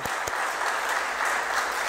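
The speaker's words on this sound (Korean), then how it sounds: "우리 어린이들과 청소년들에게 응원의 박수, 축복의 박수를 한번 같이 하면 좋겠습니다" A church congregation gives a short burst of dense applause for its children and youth at a New Year's first worship service, with steady close clapping throughout.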